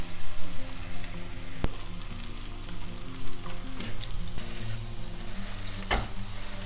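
Onions frying in a pan over low heat give a steady, close sizzle that lasts throughout, with a couple of faint clicks and light stirring sounds.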